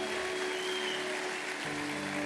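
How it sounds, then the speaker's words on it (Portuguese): A church congregation at a Sunday service in Curitiba applauds, a steady wash of clapping hands heard from a distance at a moderate level. "Dê uma salva de palmas a Ele bem forte."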